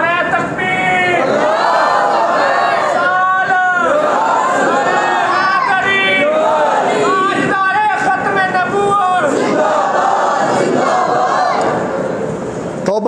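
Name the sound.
crowd chanting in response to Nara-e-Takbeer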